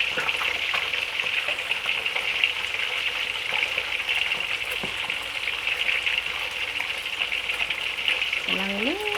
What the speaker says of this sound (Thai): เพื่อน ๆกำลังทอดเลยค่ะเพื่อน